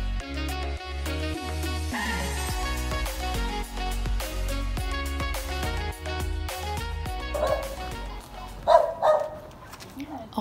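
Dogs bark along the coastal route of the Portuguese Camino de Santiago, a few short bursts near the end rising above a steady bed of music.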